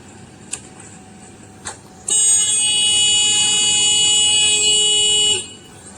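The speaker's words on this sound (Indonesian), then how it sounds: "pada posisi saklar on, ini akan alarm klakson akan menyala" A motorcycle anti-theft horn alarm blares loudly for about three seconds, a harsh continuous buzzing honk, after a couple of faint clicks from the ignition switch being turned on.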